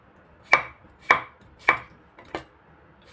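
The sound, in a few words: pounding ginger for adobo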